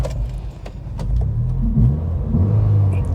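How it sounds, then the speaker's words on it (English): A Rover 220 Turbo Coupe with a 200 bhp 1990s turbo engine revs up close, a loud low rumble rising and surging in pitch over a few seconds. "when you rev it up, it's got a real nice sound"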